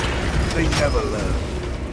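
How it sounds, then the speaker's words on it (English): Weapon reload in Warhammer 40000: Space Marine 2, a short burst of metallic clicks and clanks with a ratcheting mechanism, heard against a dense battle din with a voice present. "Reloading weapon"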